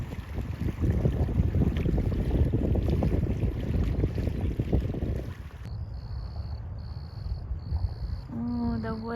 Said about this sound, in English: I'm not gonna talk, you guys just hear the water now